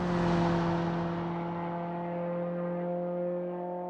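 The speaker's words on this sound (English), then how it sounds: "Let's get a listen to the engine sound on the flyby." A modified minivan on a land speed record run drones past, its steady engine tone loudest at first and then slowly fading as it moves away.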